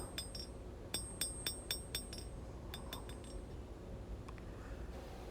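Hammer blows ring out against steel as knife bevels are forged at the anvil, roughly a dozen bright metallic strikes in quick clusters over a steady background hum, moderately loud and close.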